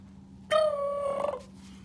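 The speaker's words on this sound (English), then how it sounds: "It's a bird whistle. It calls birds." Single short blast on a bird whistle, a wavering, gobbling warble like a turkey call, loud and close over a quiet low hum.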